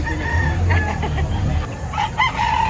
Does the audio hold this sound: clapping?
no